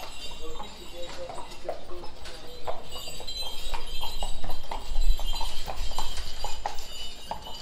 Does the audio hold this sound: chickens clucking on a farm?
no